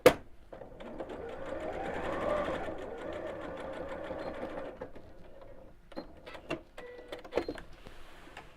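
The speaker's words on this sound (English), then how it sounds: "then I can carry on sewing in a straight line, so I'm not sewing over that" A sewing machine stitches a zip in a straight line, running as one steady continuous whir for about five seconds, then giving way to short stop-start bursts of stitching.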